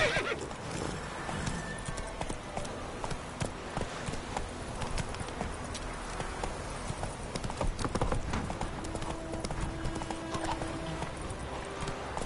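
Roach, a horse in The Witcher 3, clip-clops steadily on hooves with a whinny, game ambience and effects around it, no talk heard.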